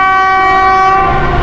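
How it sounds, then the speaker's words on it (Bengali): A Bangladeshi train horn blares as one loud, close, sustained tone with a strong harmonic sound, held without a break for the whole moment. "এইটা আমাদের দেশীয় ট্রেন সাউন্ড।"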